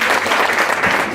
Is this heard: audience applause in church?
yes